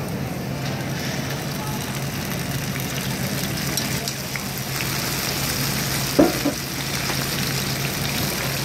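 Black garlic and fresh tomato hit a hot pan for a gluten-free zucchini noodle sauce, giving a steady, close sizzle and crackle with a brief clatter partway through.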